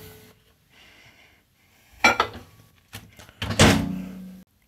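A kitchen microwave door opens and shuts in a quiet room, giving a couple of sharp clunks and thuds with a brief rattle between them, nearby and fairly loud with no talking.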